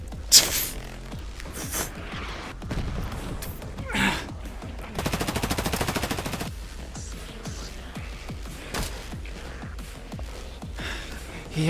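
Ranged weapons fire in a VR roleplay game. Scattered shots pop over a noisy background, with one rapid automatic burst in the middle, at mid distance and fairly loud.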